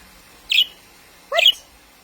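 A pet parrot gives two short, shrill calls about a second apart, close by and fairly loud in a quiet room, with no talking over them.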